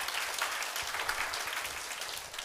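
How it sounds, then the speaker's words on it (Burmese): An audience claps together at a motivational talk, a dense spatter of many hands applauding steadily at moderate loudness and tapering slightly at the end, with no speech over it. "လက်ခုပ်တန်နဲ့အားပေးလို့ရတယ်ရှင်"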